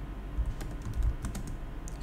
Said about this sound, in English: press the Windows key and type CMD for the command prompt